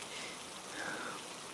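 Rain falls in a steady, even hiss around a riverside house during a storm, a continuous wash of drops with no voices and no breaks over its short length.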